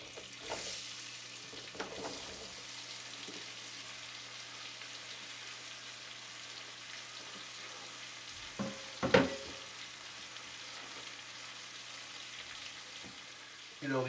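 Butter melts over medium-high heat in a pan for onion soup, giving a soft, steady sizzle and faint crackle. A few clinks and bumps of the pan and utensil sound close by.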